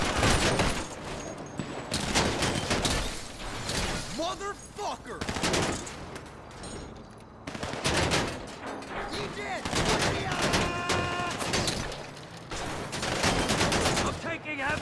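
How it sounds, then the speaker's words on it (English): Bursts of heavy gunfire from a Grand Theft Auto V Online heist mission, with rapid volleys and machine-gun bursts separated by brief lulls, loud and repeated across the scene, with game effects in between. "I'm taking heavy fire here!"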